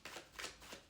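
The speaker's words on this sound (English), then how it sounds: "We'll do one more shuffle." Tarot cards being shuffled, one brief close, faint riffling flutter of cards lasting about a second, with no voice.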